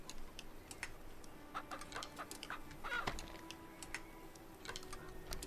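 A chicken clucks in the medieval survival game Medieval Frontiers, soft short clucks scattered among brisk computer keyboard typing clicks, all fairly quiet with no talking.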